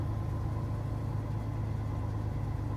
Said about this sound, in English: I'll shut up for a minute and let you guys just listen to the truck.